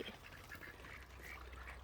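Ducks kept on a small farm abroad quack in a quiet, faint flurry of short overlapping calls for a couple of seconds, with no one speaking.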